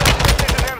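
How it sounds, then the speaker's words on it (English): Rapid bursts of automatic gunfire from a multiplayer shooter video game, about eight loud, close shots in an even rhythm with no pause between them. "Two different teams are shooting at them."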